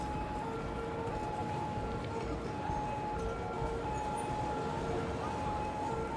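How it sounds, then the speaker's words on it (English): Trains rolling through a city in Cities: Skylines, a steady low rumble with faint sustained tonal whines throughout, distant and continuous rather than loud. "There's a lot of trains going through there."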